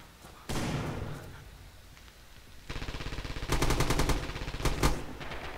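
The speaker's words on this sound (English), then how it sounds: "he's engaging them with a rifle. Using grenade now to the outside" Rifle fire and a grenade in a competitive video game match: a sharp blast followed by bursts of rapid gunshots, loud and near, with a quieter lull between them.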